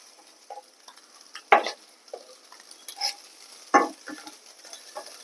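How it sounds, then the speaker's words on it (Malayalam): Papaya laddu scooped out of a cooking pan into another vessel, giving a few soft scraping stirs and two sharper metallic clinks, close and alone with no voices. "ഇപ്പൊ നമ്മുടെ ഇതൊക്കെ ആയിട്ടുണ്ട് നമുക്കിത് കോരി വേറൊരു പാത്രത്തിലേക്ക് മാറ്റാം"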